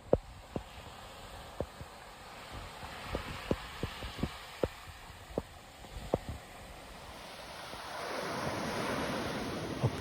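Waves wash onto a beach at the end of a coastal walk, a soft continuous surf with wind noise and sharp intermittent knocks, swelling into a louder rushing wave near the end.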